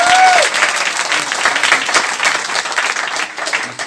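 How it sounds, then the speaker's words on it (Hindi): Loud, dense applause from a large audience at a direct-selling business seminar in India, sustained and steady throughout, briefly overlapped at the start by a short tonal sound. "एक बार तालियां बजा दीजिए दम लगा के।"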